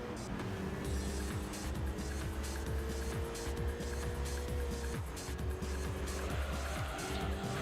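A race car in Gran Turismo 3 braking into a turn, with a loud revving engine, repeated downshift blips and tire squeal, plus other cars close by, continuous throughout.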